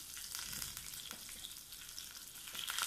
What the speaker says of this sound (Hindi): इसके लिए हमने 1 चम्मच ऑयल लिया है पैन में। इसमें सबसे पहले हमने हरी मिर्च डाली है,